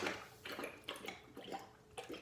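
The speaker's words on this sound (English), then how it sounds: "Bear with Luna and her water." A pet drinking water indoors: soft, wet lapping and splashing in a steady rhythm of a few laps, faint and close in a quiet room.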